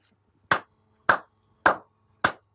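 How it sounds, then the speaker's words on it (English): Four sharp, evenly spaced hand claps ring out close by, each about half a second apart, with no talking around them. "What do you clap for now?"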